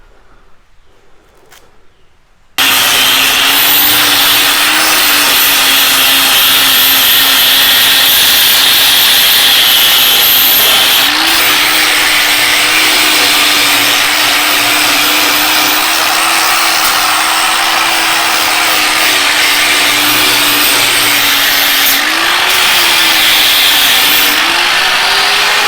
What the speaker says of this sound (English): You're going to want to kind of clean up these sharp edges with the flapper disc.